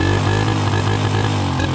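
A Honda SL100 motorcycle engine revs up close by, a loud, steady buzzing drone with a rough, slightly uneven pulse from a misfiring cylinder.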